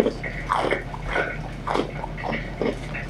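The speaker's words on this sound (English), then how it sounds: "But yeah, listen to that crunch." Crispy golden-brown fried catfish nuggets being chewed: four or five close, loud crunching bites in an uneven rhythm, each a short crackly burst, with no talk over them.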